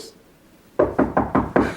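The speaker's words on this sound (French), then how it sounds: "on frappe à la porte" Five firm knocks on a door land in quick, even succession after a moment of near silence, close and fairly loud with no talking.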